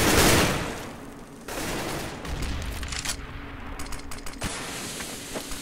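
Rapid bursts of gunfire in a Counter-Strike: Global Offensive match at a 2013 women's tournament final, several volleys crackling in quick succession.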